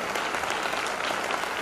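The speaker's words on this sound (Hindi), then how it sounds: "आइए सभी लोग जोरदार ताली बजाएं।" Audience clapping loudly to welcome a guest at a Christmas prayer meeting in Gadchiroli, Maharashtra, a dense, steady burst of many hands applauding together throughout.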